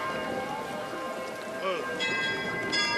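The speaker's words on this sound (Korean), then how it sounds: "아, 지금 종소리 나고 있는데" Bells ring in Olomouc, Czech Republic, their sustained tones swelling in over the second half amid outdoor ambience while people talk.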